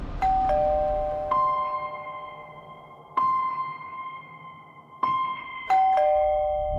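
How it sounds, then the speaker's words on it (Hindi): An electronic doorbell chimes several times, each ding-dong ringing out clearly and decaying, with short pauses between rings. "जिसने उस रात जयदेव प्रांचवे के घर की घंटी बजाई थी।"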